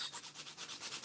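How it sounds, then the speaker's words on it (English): Quick, rhythmic strokes of an upside-down sanding block rub back and forth, thinning a bass guitar nut, close up and fairly soft, with no talking. "So I've got this sanding block that"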